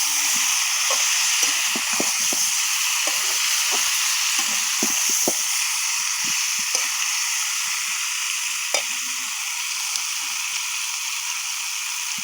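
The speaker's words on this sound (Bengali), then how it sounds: "হলুদ লঙ্কা দিয়ে ভালো করে সবজিগুলো ভেজে নিতে হবে।" Mixed vegetables sizzle steadily in a pan with turmeric and chili powder for a village-style labra, with a spatula stirring and scraping in irregular taps throughout, close and continuous, no talking.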